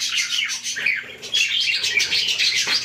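Many birds in an aviary chirping and tweeting continuously, a dense overlapping chorus of small bright calls heard up close, with no speech.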